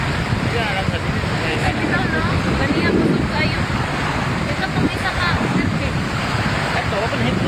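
Rough surf surges continuously across a beach in Governor Generoso, Davao Oriental, Philippines, as tsunami waves flood the shore, the loud wash mixed with wind buffeting the microphone and people talking faintly underneath.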